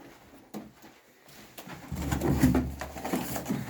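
Pigeon cooing close by, from a fancier's prized old-bloodline breeding bird, starting faint and swelling into a steady run of low, throaty coos over the last two seconds.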